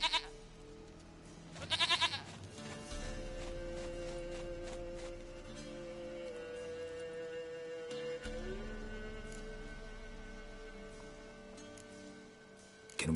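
A goat bleats in the video game The Witcher 3: one short bleat, then two long, wavering bleats over a quiet game ambience, clear and close.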